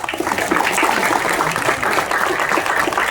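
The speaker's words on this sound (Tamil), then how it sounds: "பலத்த கைத்தட்டல் கொடுத்துக்கலாம்." Crowd applause at a movie audio launch event, a dense steady clapping that fills the moment without speech.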